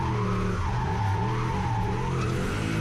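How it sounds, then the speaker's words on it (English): A turbocharged 1UZ V8 Lexus LS400 drifts on a track, its tyres squealing in a long continuous screech over the steady roar of the engine, loud and close throughout. "the car was certainly drifting into the corners a bit easier"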